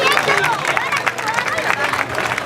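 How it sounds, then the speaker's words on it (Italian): Dense clapping from a crowd at a grape and wine festival in Vò Euganeo, Italy, fills the whole moment, steady and fairly loud, with murmuring voices blended underneath. "Applauso che è partito spontaneamente"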